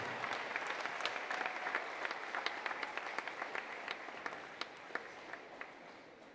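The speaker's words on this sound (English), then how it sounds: "Ladies and gentlemen, one more round of applause." Audience applause in a school basketball gym celebrating a player's career points milestone, continuous dense clapping at a moderate distance throughout, with a few sharper individual claps standing out.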